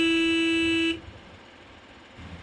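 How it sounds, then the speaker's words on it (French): A loud, steady horn on a spreader truck sounds for about a second to signal the end of loading, then cuts off abruptly, leaving quiet background noise. "L'épandeuse est équipée d'un klaxon qui signale la fin du chargement."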